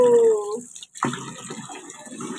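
Water runs from a tap into a sink as a child washes, a steady splashing flow close by, briefly cut off before starting again.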